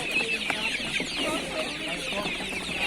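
A dense chorus of shrill chicks chirping and peeping continuously, close by at a market, with faint clucking mixed in and no talking.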